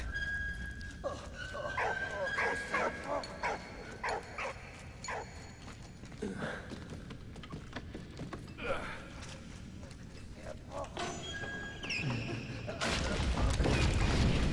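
A dog barks and yips repeatedly in the Soldats Inconnus: Mémoires de la Grande Guerre video game, with sharp separate barks and whimpers over game background sounds, and a loud rushing burst near the end.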